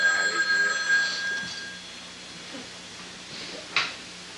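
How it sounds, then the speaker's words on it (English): A telephone bell rings in a home, one ring near the start and another trill near the end, with quiet room noise between and no voices. "Leslie, your girlfriend's on the phone"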